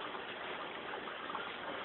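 A bell-less U-shaped auto-siphon in an aquaponics tank gurgles and rushes steadily as the water drains and the pipe begins sucking air, a continuous close wet hiss with no talk.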